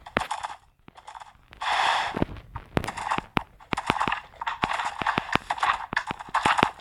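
Hooves clip-clop on the ground in the Minecraft video game in a quick, uneven rhythm of crisp close hits, mixed with snorting breaths from the horse.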